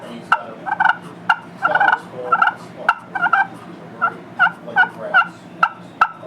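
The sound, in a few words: hen turkey call imitated with a turkey call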